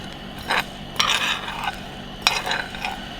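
A spoon or spatula scrapes and stirs buckwheat grains in a hot frying pan, in several short rustling strokes with a faint sizzle underneath.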